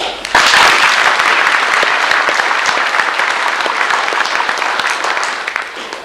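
An audience at a credit union's 50th anniversary breaks into applause, loud, dense clapping from a crowd that starts abruptly and carries on steadily for several seconds with no talk over it.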